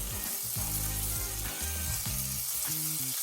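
A good knob of butter sizzles and fries in a hot pan with almonds being toasted for almond rice, a steady close crackle running under tonal music throughout.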